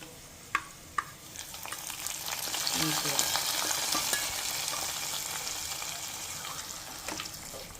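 Mutton curry stirred and frying in a pan, with a steady loud sizzling hiss throughout, broken early by two sharp knocks of a utensil against the pan.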